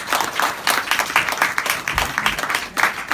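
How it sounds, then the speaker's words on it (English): Applause from a forum audience, dense steady clapping filling the whole stretch at a fairly loud level, with no speech over it. "can we give Mr. Oliver Lim a big round of applause?"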